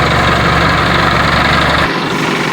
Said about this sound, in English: the motor's so loud